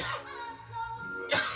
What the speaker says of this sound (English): Keep your eyes closed while you cough